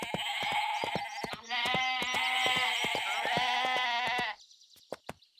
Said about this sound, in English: Maybe I should herd these baby goats out of the way.